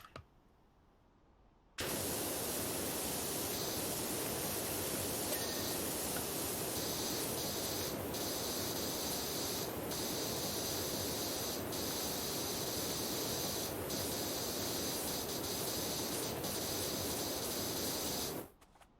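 A pressure washer sprays water through its nozzle in a loud, steady hissing roar that starts abruptly, runs unbroken for about sixteen seconds, then stops.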